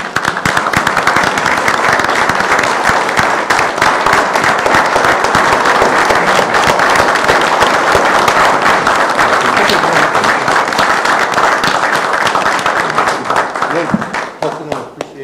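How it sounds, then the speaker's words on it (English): Applause for a retired firefighter at a city commission meeting in San Juan: loud, sustained clapping from a crowd with a dense crackle of hands that continues unbroken and fades slightly at the end. "I'd like to give him a round of applause"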